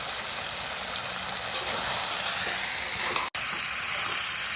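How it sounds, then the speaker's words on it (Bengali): Chicken frying steadily for kosha, a dense continuous hiss and sizzle at even loudness, with a brief cut just after three seconds. "এবার আমি বেশ খানিকক্ষণ মাংসগুলো ভালো করে কষিয়ে নেব।"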